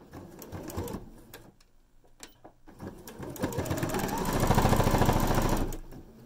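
A home sewing machine stitches a fabric gift card holder, whirring in a short burst early on and then a longer, louder steady run near the end, with small handling sounds between.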